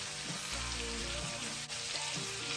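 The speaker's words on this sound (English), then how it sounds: "Now I'm going in with 4 cloves of finely chopped garlic." Four cloves of finely chopped garlic sizzle steadily in butter in a hot pan, a continuous close frying hiss with scattered pops, heard alone.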